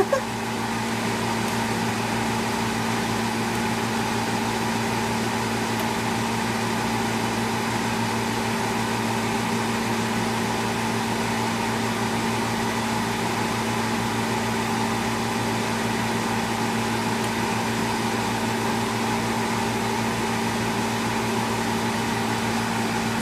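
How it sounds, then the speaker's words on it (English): A steady exhaust fan runs throughout while violin rosin is melted and smoking, a constant mechanical hum with a few tonal bands, fairly loud and even with no talk over it. "Yeah, that's why we have the exhaust going."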